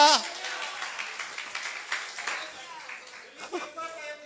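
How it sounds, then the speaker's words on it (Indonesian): A church congregation at a worship service claps in a brief burst of applause that fades over a few seconds, with voices talking over it. "Beri tepuk tangan, haleluya."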